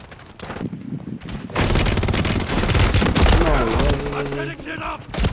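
Rapid bursts of video game gunfire in a first-person shooter, loud and dense, crackling over a few seconds with background game effects and faint player chatter mixed in.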